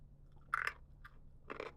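Bursts of crunching as seaweed and soy sauce rice crackers are bitten and chewed, three short crisp bites close to the mic over a quiet low hum, no talking.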